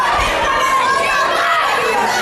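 A crowd at an indoor pro wrestling show, a loud, steady wash of chatter and shouting from spectators, children among them, with no single voice standing out.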